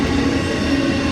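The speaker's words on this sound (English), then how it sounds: "Yes, the train still goes by here at the Whistle Stop." A train rolls past the Whistle Stop, a filming location for Fried Green Tomatoes, with a loud, close rumble of rail cars and wheels on the track throughout the brief moment.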